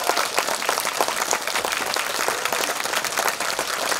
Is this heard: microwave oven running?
no